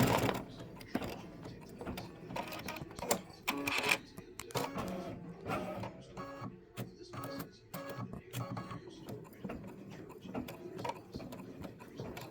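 An embroidery machine stitches free-standing lace Halloween boo earrings, its needle tapping in quick mechanical bursts with whirring and clicking between runs, fairly faint and close, with a voice speaking at times.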